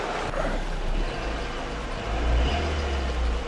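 A 26-year-old Ford Fiesta's engine idles with a steady low rumble, moderately quiet and close, with no voices over it.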